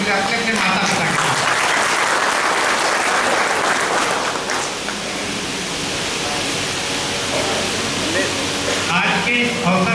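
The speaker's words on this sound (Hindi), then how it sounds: "तो एक बार और ताली बजा सकते हैं माता बाबू के अपने अपने माता पिता के।" An audience claps loudly and continuously at a BAMCEF gathering in New Delhi, a dense wash of many hands at full strength that dips slightly midway and then swells again.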